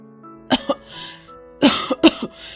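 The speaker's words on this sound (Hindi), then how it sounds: "दोपहर तक उसे जोर जोर से खांसी भी आने लगी।" A girl with a fever coughs hard in a dramatized story: two quick coughs, a pause, then a rougher cluster of three or four harsh, close coughs with throat-clearing in between.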